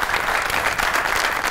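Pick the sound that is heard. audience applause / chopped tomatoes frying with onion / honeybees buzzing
audience applause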